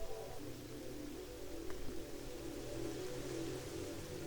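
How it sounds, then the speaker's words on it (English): Steady, soft rain in the video game Twilight Princess HD patters in a continuous wash with a low hum underneath, no voices present. "And yes, it is raining."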